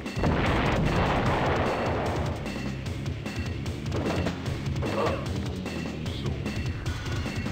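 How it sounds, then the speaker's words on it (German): Repeated stock explosion and gunfire effects from the video game Crusader: No Remorse crash and boom in a dense, continuous barrage of impacts and rumbling. "die Programmierer für die Soundeffekte von den Explosionen diese Standard-Explosions-Soundeffekte genommen haben"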